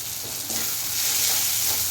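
Spice paste with a spoonful of gram flour frying and being stirred in a pan for a fish roe curry, a steady close sizzle with soft scraping strokes and no voices.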